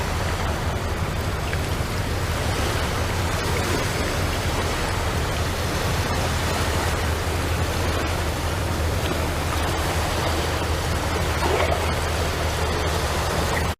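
Hydrophone field recording of water from just below the surface, a dense, steady wash of rushing, bubbling noise that stays loud and unbroken throughout with no voices.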